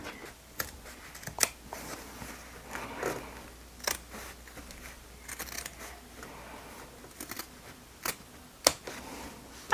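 Scissors snipping away excess fabric and batting while making a nécessaire box, a series of sharp, close cuts spaced irregularly with quiet handling rustle between them.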